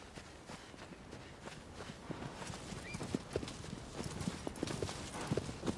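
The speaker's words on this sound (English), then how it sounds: "I'm running alongside my horse." Horse hooves clip-clop in Shadow of the Colossus, a galloping rhythm of close, repeated thuds building steadily louder, with no talk over it.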